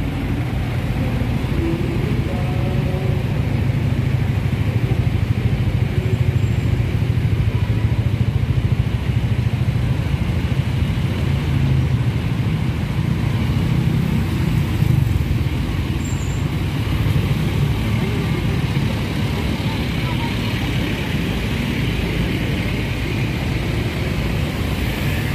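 Steady road traffic in Cebu, a continuous low rumble of cars and motorcycles at moderate distance with no single vehicle standing out, holding evenly throughout.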